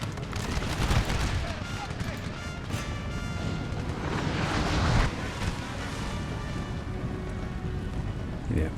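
Cannon and musket fire crackle and boom in a Napoleonic battle in Napoleon: Total War, with dense, overlapping gunshots and heavy blasts running continuously, loud and close.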